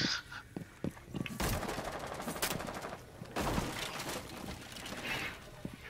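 Gunfire in the video game Rainbow Six Siege: rapid automatic bursts crackle and rattle, with a couple of louder, denser volleys and quieter shots scattered between them.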